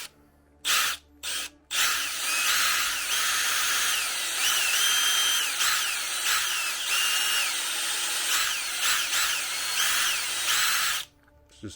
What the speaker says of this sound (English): So I'm just drilling this.